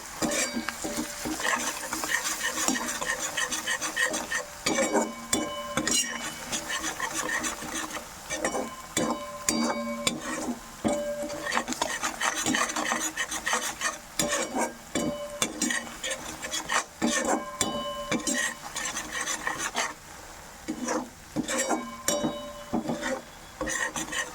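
Fried masala stirred in a pan with a metal spoon, giving repeated scraping and clinking strokes in an irregular rhythm over a faint sizzle, close and fairly quiet.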